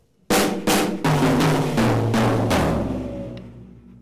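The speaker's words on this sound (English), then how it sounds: "It's going around the kit clockwise, snare drum, small tom, middle tom, floor, and the fill sounds like this." A drum fill travels clockwise around the kit from snare to small tom, middle tom and floor tom. About seven loud, close strikes step downward in pitch at an even pace, and the last one rings out.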